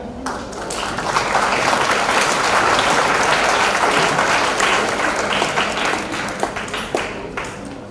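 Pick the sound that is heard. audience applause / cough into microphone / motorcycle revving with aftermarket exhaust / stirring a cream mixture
audience applause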